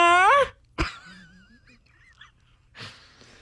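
A human voice imitates a goose with one loud, nasal honk, followed by a short pause and a few quieter vocal sounds in an otherwise quiet room.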